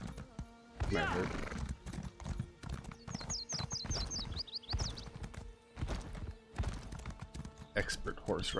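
A horse ridden in the video game ESO High Isle clip-clops steadily, with a whinny near the start, amid game music and ambient sound while a person talks intermittently.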